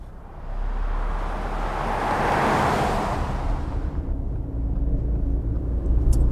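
A car approaches and sweeps past, its roar building to a broad peak in the middle, then fading into a lower steady rumble as it moves away.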